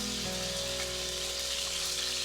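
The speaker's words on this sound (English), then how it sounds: "I'm going to brown the lamb on all sides" Lamb browning in a hot pan gives a steady, dense sizzle that stays even and close throughout, with no one speaking.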